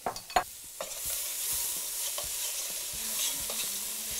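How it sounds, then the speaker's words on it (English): Finely minced carrots, celery and onions sautéing with pancetta in a pan: a steady, broad sizzle with scraping stirs and a few sharp utensil knocks near the start, no talking. "We're gonna add our finely minced carrots, celery, and onions to the pan with our pancetta to wilt down till nice and soft."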